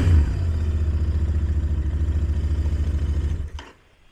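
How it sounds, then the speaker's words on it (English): A 2023 Royal Enfield Interceptor INT650 parallel-twin motorcycle engine idles and revs with a deep, throaty, rapid pulsing beat, then cuts off near the end, leaving brief quiet. "I will give it just a couple little revs for you."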